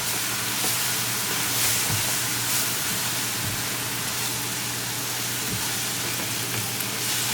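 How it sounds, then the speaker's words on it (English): Mushrooms frying in a spiced tadka over a medium flame, a steady close sizzle and hiss with occasional soft stirring clicks throughout, no voices. "Cooking our mushroom for 2 minutes on medium flame with our tadka"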